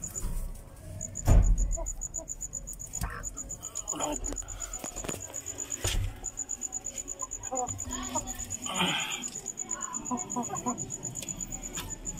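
A Peruvian Blue gamefowl rooster clucks and calls among other yard birds, with insects or crickets buzzing steadily in the background and occasional faint outdoor noises.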